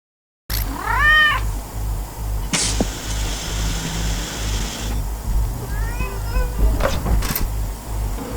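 A cat meows twice, rising and falling cries that sit over a steady low hum and scattered clatter in a game or sci-fi lab setting.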